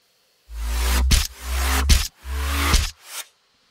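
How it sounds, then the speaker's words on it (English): Three swelling, buzzy tones build in bursts, each ending in a sharp crackle, followed by a shorter fading tail, a charge-up sound effect for a hammer's elemental blast in the game Dauntless. "the charge up sounds like this."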